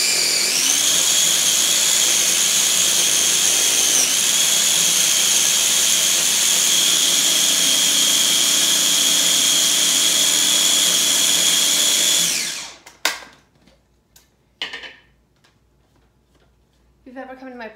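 A kitchen appliance grinds basil for pesto with a loud, steady high whine that runs for about twelve seconds, then stops, leaving a few faint clunks and brief speech.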